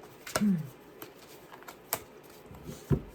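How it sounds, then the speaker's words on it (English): Tarot cards being scooped up and shuffled, giving a few sharp papery snaps and soft rustles at close range, spaced irregularly across a few seconds with no talking. "We're going to shuffle, and then we will see for Lily."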